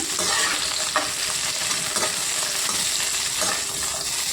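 Half a kilo of bottle gourd pieces and fifteen green chillies sizzle and fry in a pan for pachadi, a loud, steady hiss broken by a few scraping stirs.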